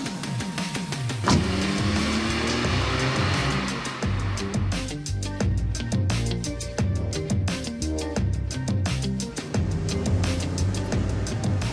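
Small Smarlinette car with a three-cylinder engine driving, a steady close engine drone with repeated rising pitch sweeps as it accelerates and shifts, with clicks and rattles throughout.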